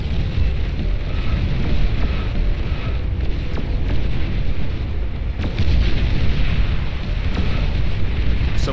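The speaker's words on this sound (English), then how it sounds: "So many explosions. It's hard to watch up close." Continuous loud rumbling blasts and booms pile up densely in the strategy game Beyond All Reason, a dull roaring wash of repeated explosions without pause.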